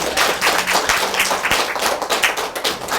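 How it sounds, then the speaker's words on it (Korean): Conference audience applause, a dense patter of many hands clapping at moderate level, steady for a few seconds with no voices over it. "모두에게 박수 한번 해주시길 바랍니다"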